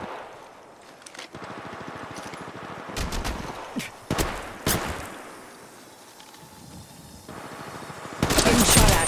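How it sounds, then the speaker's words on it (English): Gunfire in the Apex Legends Mobile video game, scattered bursts of rapid shots and sharp single cracks at varying distances over quieter game ambience, with a heavier burst near the end. "Yeah, getting shot at."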